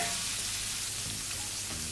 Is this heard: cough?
no